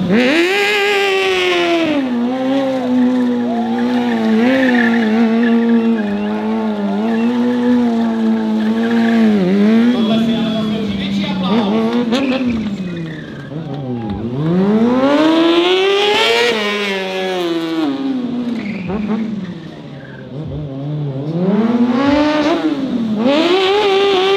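Kawasaki 636 stunt motorcycle at a live stunt show, engine revving hard in long rising and falling sweeps with repeated throttle blips and tire skids, loud and close throughout.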